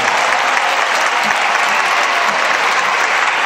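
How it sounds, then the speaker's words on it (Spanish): Audience applause at a concert, a dense, steady wash of clapping from a crowd that fills the whole stretch at full loudness without pause. "quiero que el primer aplauso de la noche sea para ella"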